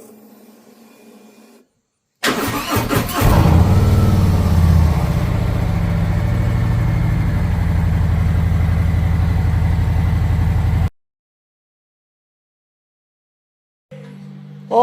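A Street Glide motorcycle engine idles in neutral, a loud, steady, deep rumble that starts after about two seconds, runs for roughly nine seconds and then cuts off into silence.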